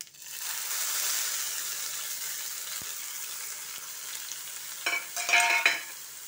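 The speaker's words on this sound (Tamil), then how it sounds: "இப்போ கடுகு உளுந்து பொரிய ஆரம்பிச்சிருச்சு" Mustard seeds and urad dal crackle in hot oil, a continuous quiet sizzle that swells into a brief burst of sharper popping toward the end, heard close with no talking.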